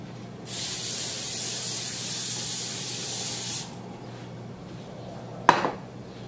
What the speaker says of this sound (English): Spray the paper.